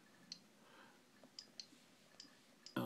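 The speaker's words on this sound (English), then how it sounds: "I can type here on the keyboard anything I'd like to say." Fingertip taps on an Android tablet's on-screen keyboard: a handful of faint, light clicks spaced irregularly across a few seconds, close and quiet, with no talking.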